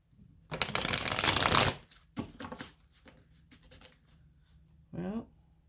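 Tarot cards shuffled in a loud riffling burst, followed by a few softer card slides and snaps as cards are drawn, with a brief voice near the end.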